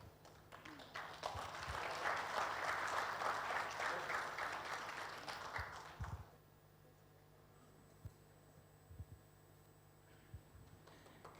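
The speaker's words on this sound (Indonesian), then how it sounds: "Bapak Ibu beri tepuk tangan sekali lagi untuk Bapak Ibrahim." Audience at an economic outlook seminar in North Sumatra applauds warmly for about six seconds, the clapping swelling and then fading into quiet room hum with a few scattered taps afterward.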